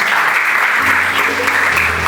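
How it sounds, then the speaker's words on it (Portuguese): A church congregation at a Sunday family evening service applauds its volunteer team, producing sustained, loud, even clapping throughout with a faint low hum underneath. "Dá um aplauso aí para a nossa equipe de voluntários"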